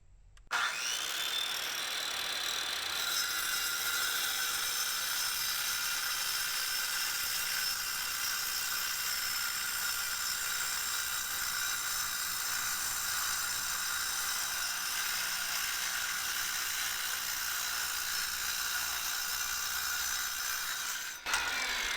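A power saw grinds steadily through a 12-inch stone block, halving it, with one continuous loud cut that starts abruptly, holds a bright, even whine throughout and stops sharply near the end.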